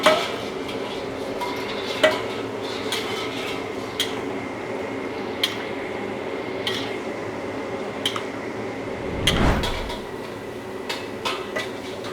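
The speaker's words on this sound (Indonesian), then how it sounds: "ini kita masak dulu sayurannya" Vegetables cook in a pot for chicken fillet with Padang sauce, giving a steady bubbling, simmering bed with scattered clinks of utensil against metal and one louder scraping stir, close and continuous with no talking.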